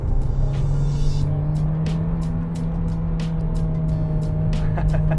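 VW Golf GTI MK3 hot hatch engine droning steadily at constant revs while driving, a continuous close interior hum with light road noise and a few brief clicks.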